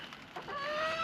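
A chicken on a homestead gives a brief, soft cluck that rises into a short tonal call, faint and close within about a second, with no other sounds around it.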